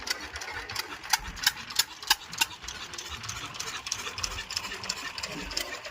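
A tractor-mounted borewell drilling machine runs at a farm field, a steady mechanical clatter with a train of sharp rhythmic knocks early on, then a continuous busy rattle at moderate level.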